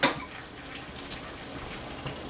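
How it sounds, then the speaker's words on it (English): An egg sizzles in melted butter in a pan, a soft, steady crackle with a light clink at the start, fairly quiet and close, with no talking. "and you can hear it, it's already starting to sizzle."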